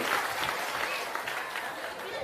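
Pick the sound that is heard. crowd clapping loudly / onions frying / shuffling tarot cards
crowd clapping loudly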